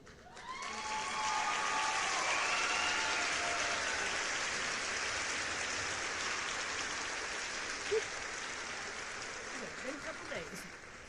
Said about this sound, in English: There's our signature canned applause sound for A.